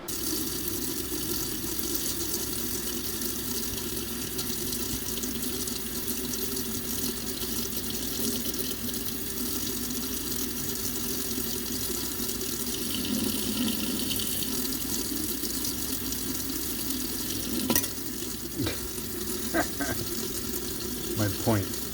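A steady stream of tap water runs into a sink throughout, with a metal spoon held in the flow; the rush stays loud and continuous, and a few clinks and splashes come near the end.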